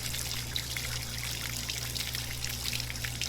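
Water trickles steadily inside a toilet stall in the horror game Spirit Hunter: Death Mark II, a continuous soft dribble over a low droning hum.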